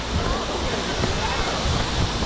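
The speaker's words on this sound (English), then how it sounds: "What a waterfall!" A waterfall roars as loud, dense broadband rushing, steady and close, mixed with wind buffeting the microphone during an adventure race, and a voice speaks over it.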